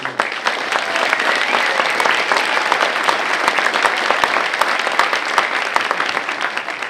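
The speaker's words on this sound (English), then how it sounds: "let's give them a round of applause" Audience members at a United Way gathering clap for visitors in a long, loud burst of applause, crisp individual claps standing out within a steady, full-room sound that continues unbroken.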